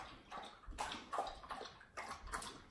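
A dog laps water from a bowl early in the morning before a 5K race, making a quiet run of soft, wet slurping bursts close by, with no talking.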